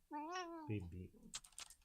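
A talkative cat gives a drawn-out, rising meow followed by a couple of shorter chirping mews, close and clear, with faint clicking after.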